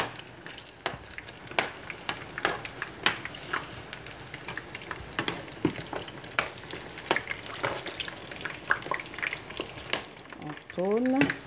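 Banana slices and ground meat patties fry in a pan, crackling and sizzling steadily with sharp pops throughout and a brief scrape of turning near the end.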